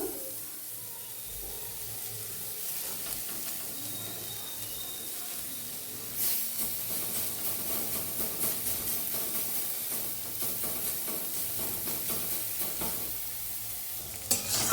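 Chopped garlic frying in a pan with onion and tomato in a village kitchen gives a continuous close sizzle. Stirring scrapes come through, and the frying grows louder and busier after a few seconds, with no voices.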